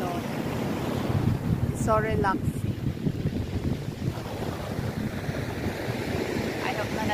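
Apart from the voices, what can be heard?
sea waves breaking on the shore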